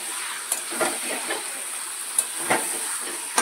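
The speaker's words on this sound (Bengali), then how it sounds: "এবার একটু আমি আস্তে আস্তে করে চিকেনগুলোকে দিয়ে ফেলি।" Chicken pieces slid into a pan of hot spice masala, giving a constant close sizzle and hiss with occasional stirring scrapes and soft bumps.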